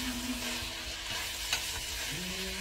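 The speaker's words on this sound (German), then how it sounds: "alles schön anbraten. Also, mal hier braten." Ingredients for soljanka sizzle steadily in a frying pan, a continuous close hiss with occasional stirring scrapes and a faint tonal hum underneath.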